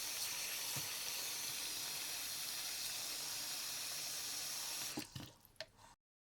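Tap water running into a bathroom sink backed up with toilet paper, a steady close hiss for about five seconds before the flow stops with a few drips and gurgles.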